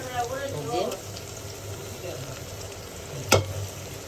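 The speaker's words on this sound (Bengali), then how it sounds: "আদা রসুন দিলাম" Ginger and garlic fry alongside chicken in a hot pot: a soft, continuous sizzle with a few stirring scrapes and one sharp clink near the end. A voice murmurs faintly beneath.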